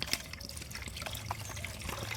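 Water trickles and splashes as about one litre is poured over chopped banana peels to make homemade organic plant fertilizer, a soft, continuous close pour.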